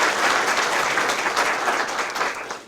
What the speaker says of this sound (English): let's give him a round of applause so when he sees this later